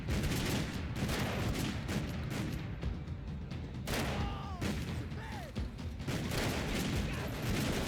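Rapid gunfire and bullet impacts in a Max Payne 3 firefight ring out continuously, a dense, loud barrage of shots over crashing debris with no pauses.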